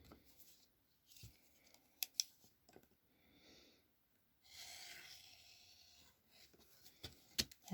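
Folded paper foundation piecing is trimmed at a quarter inch, with soft rotary-cutter or scissor swishes, a short scraping stretch and scattered faint clicks and taps, quiet and close.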